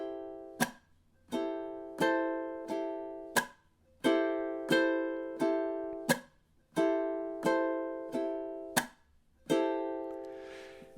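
Ukulele strummed slowly in a down, up, chunk, up pattern, each sharp strum and palm-muted chunk falling in a steady even rhythm, close and clean with no talking.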